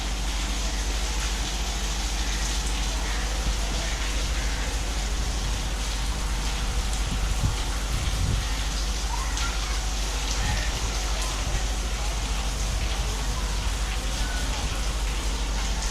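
Heavy stormy rain pours down in Malir in a constant, dense hiss, with occasional faint knocks and patters mixed into the steady wash.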